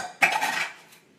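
Dishes, pots and cutlery clatter in a home kitchen in one sharp, jangling burst that rings briefly and fades out.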